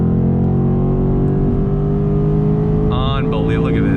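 A 2019 Mercedes-AMG C63 S engine pulls hard under acceleration, a loud, steady low drone with a slight rising pitch and a brief higher whine near the end.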